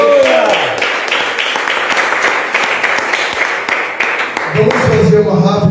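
A church congregation at an evening service claps their hands for the Lord, loud and rhythmic clapping that fills the room, with a voice and some tonal sound at the start and music swelling near the end.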